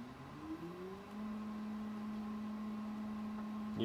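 A motor drives the slide of an MDF rose engine lathe, giving a steady close hum and whir whose pitch rises over the first second, then holds even and continuous.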